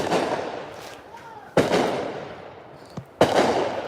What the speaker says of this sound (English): And we're gonna keep getting fireworks.